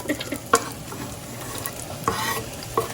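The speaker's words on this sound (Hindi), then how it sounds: "ये हाई हीट पे हम लोग सॉटे करेंगे।" Onion and garlic sautéing in leftover meatball oil over high heat, a steady close sizzle with a few sharp clinks of a utensil against the pan.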